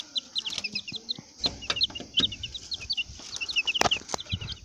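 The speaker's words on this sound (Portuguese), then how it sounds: "Ali do outro lado estão os garnizés e aqui os patos e as galinhas." Chickens cluck repeatedly in a farmyard pen alongside ducks and bantams, the short clucks and calls overlapping throughout at close to moderate distance, with other birds chirping in the background.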